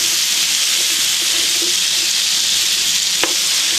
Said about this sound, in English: And to help caramelize them, once you get this moved around a little in the pan,